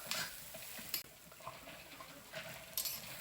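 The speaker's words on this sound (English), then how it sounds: "I'm going to put some oil on it. We're going to saute our eggplant." Eggplant sautés in oil in a skillet with a faint, steady sizzle, broken by a few soft scrapes and clinks of a utensil stirring against the pan.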